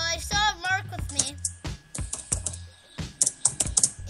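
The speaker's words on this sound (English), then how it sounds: "you know Mark when you hear the typing" Rapid computer keyboard typing in bursts of clustered clicks during a Stick RPG 2 gaming session, close and fairly loud, with a voice talking over the first half.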